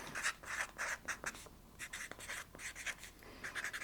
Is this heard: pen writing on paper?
yes